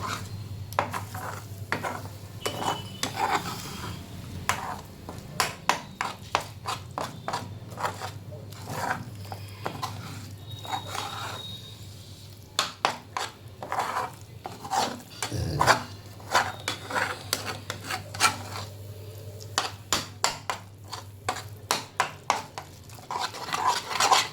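Thick gram-flour pithla is stirred in a pan, giving soft repeated scraping and tapping strokes at an irregular rhythm over a low steady hum, close and fairly quiet.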